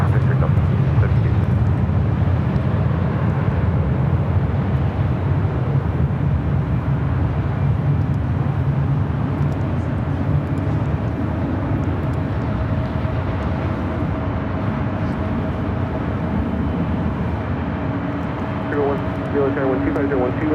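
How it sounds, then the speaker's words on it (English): A Boeing Dreamliner arriving from Seoul at Los Angeles International Airport gives a sustained low jet roar that fades slowly over about twenty seconds, with voices heard faintly alongside. "The Dreamliner coming in from Seoul."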